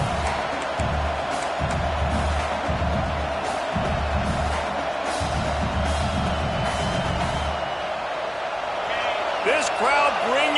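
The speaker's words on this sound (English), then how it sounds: "This crowd bringing the energy and noise early." Football stadium crowd at a TCU game, a dense continuous roar of fans that holds steady throughout, with a broadcaster's voice talking over it.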